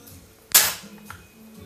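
A single sharp crack from a Benjamin 392S pump-action air rifle being fired, loud and close, with a short tail and quiet surroundings before and after.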